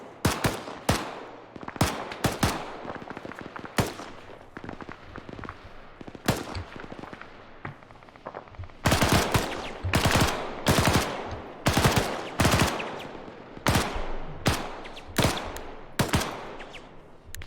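Bursts of automatic and single-shot gunfire in the military combat game ArmA, loud, sharp cracks arriving in irregular clusters with brief pauses, the heaviest volleys packed together in the second half.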